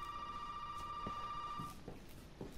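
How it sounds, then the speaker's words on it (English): A telephone rings in the Resident Evil 7 Beginning Hour demo, a steady electronic ring tone held for nearly two seconds at moderate level over a hollow ambient background with faint knocks. "Alright, phone's ringing."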